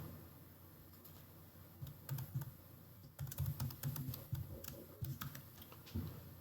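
A password being typed on a computer keyboard at a Windows 10 login, with quiet scattered keystrokes that grow into a quicker run of clicks over a soft steady hum.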